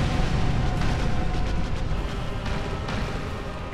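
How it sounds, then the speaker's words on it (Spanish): A fiery explosion attack in Dark Souls with the Limbo mod: a loud, sustained roaring blast that fills the whole stretch and fades slightly toward the end, with no talking over it. "Vale, aquí ha tirado fuego."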